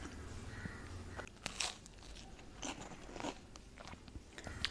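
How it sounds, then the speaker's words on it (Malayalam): Someone bites into a toasted egg bread sandwich, giving a few quiet crisp crunches and chewing sounds up close with no speech. "അപ്പോൾ നമുക്ക് ആദ്യം ടോസ്റ്റ് ചെയ്തതൊന്ന് ടേസ്റ്റ് ചെയ്ത് നോക്കാം."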